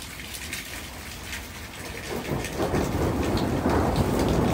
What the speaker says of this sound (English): Holy crap, this storm is awesome.